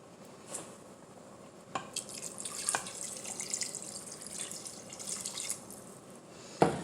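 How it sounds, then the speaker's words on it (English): Water trickles and splashes softly into a pot of beans, with a few light clinks and drips scattered throughout. "And now I'm just going to cover the beans with water."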